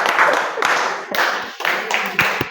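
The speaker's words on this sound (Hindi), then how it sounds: "तालियां" An audience at a riddle session claps in loose, wavering bursts, with voices mixed in under the applause.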